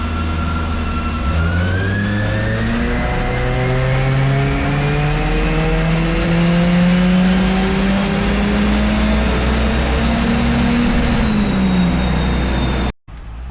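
A turbocharged Mazda Miata NC at 14.5 psi of boost revs loud and close, with its engine note climbing steadily over several seconds before cutting off abruptly near the end.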